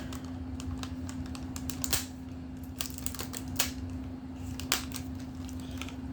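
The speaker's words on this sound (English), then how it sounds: "Trying to cut this plastic off in such a way that I can just fold it back and get the locomotive out" Plastic blister packaging around an HO scale locomotive being cut open, giving a run of sharp, irregular clicks and crackles over a steady low hum, close to the microphone with no talking.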